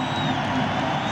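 A crowd in a basketball arena at a 1995 Orlando Magic versus New York Knicks game roars in a dense, steady wash of cheering, brief and continuous.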